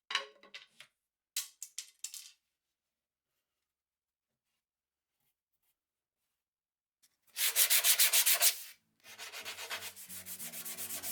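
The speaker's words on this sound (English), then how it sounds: "is some sanding on the faces." Oak drawer handles are sanded on their faces in two loud, rhythmic bursts of scrubbing, with short taps before them and long silence in between.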